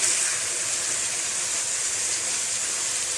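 Minced meat frying in a pan as its released water cooks off. A continuous, even sizzling hiss plays close by, with no voices.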